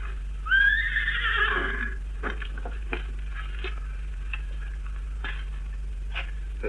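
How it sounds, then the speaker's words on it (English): A restless horse gives one loud, clear whinny near the start, then quieter ticking and clopping taps follow against a steady low hum. "Horses are very restless."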